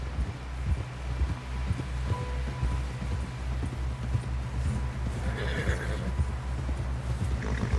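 A horse in Red Dead Redemption 2 whinnies and clip-clops at a steady gallop, hooves drumming close and continuous beneath a low rumbling game backdrop.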